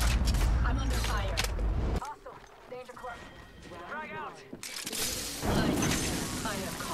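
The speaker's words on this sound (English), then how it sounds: "I'm under fire." Gunfire in a first-person shooter video game: loud bursts of shots come early, then game sounds and spoken voices follow before the shooting picks up again near the end.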